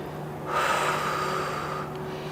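A deep inhale through the nose during a back-stretching exercise for posture, one long steady breath close to the listener, rising and holding for about a second and a half.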